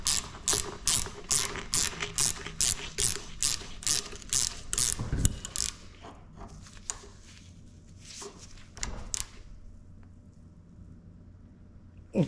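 Ratchet wrench clicking rapidly in a steady run of strokes while a nut is run down on the rear shock absorber shaft of a 2011 Ford Fiesta sedan, close and loud, then slowing to a few scattered clicks.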